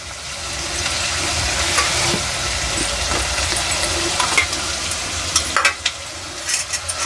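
Onions fry in a pan for a hotel-style aloo kurma, a continuous loud sizzle with scraping stir strokes and a few sharper clinks of the spoon against the pan.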